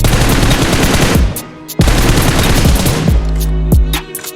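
Rapid automatic gunfire in PUBG Mobile: loud, close bursts of rattling shots broken by short pauses, with distinct single cracks toward the end and no talk.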